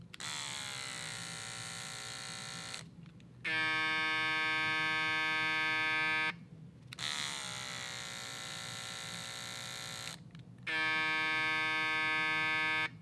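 An Andis Masters Fast Feed hair clipper hums steadily in two long runs, each switching partway from a rising whine to a bright, even buzz, with short silent gaps between them and no talking.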